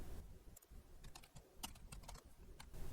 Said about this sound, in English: we're going to type in sudo reboot to reboot the system.